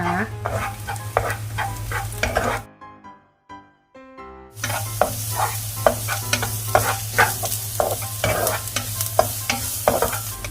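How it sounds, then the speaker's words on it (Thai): Shiitake mushrooms and garlic stir-fried in olive oil: loud, close sizzling with repeated rhythmic scraping strokes, a short quiet break midway, then vigorous stirring resumes. "คั่วเห็ดหอมไปก่อนเพราะว่ามันอาจจะสุกยากกว่ากระเทียมนิดนึงนะ"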